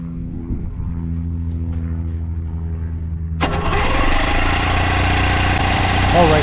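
Challenger light aircraft on the ground: a low idling hum, then the propeller engine catches abruptly and settles into a loud, steady buzzing roar close by.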